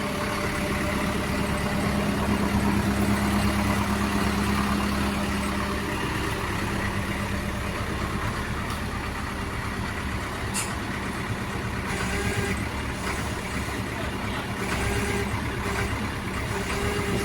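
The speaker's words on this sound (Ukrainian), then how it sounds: "мотор працює чисто, тихенько" A Solis 105 tractor engine idles smoothly and steadily, a constant low diesel rumble heard close and alone throughout.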